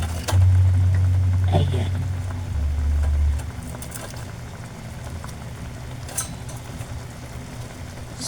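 Milkfish sizzles and bubbles in a hot pan with a brief low rumble at the start; a voice speaks briefly.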